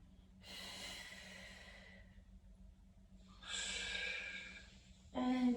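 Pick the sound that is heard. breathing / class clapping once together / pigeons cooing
breathing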